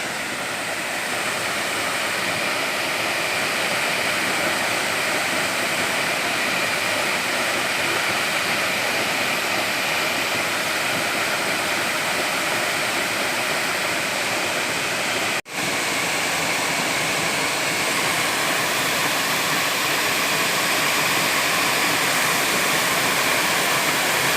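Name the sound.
Pungbunga waterfall in Tompobulu, Maros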